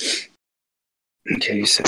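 A single short sneeze from a person, loud and close, followed after a pause of silence by someone talking.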